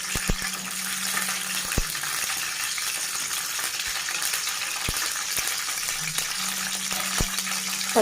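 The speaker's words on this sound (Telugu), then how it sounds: "పచ్చిమిర్చి కొంచెం ఫ్రై కావాలండి." Green chillies frying in about four tablespoons of oil, a steady soft sizzle with a few sharp clicks and taps from a utensil scattered through it.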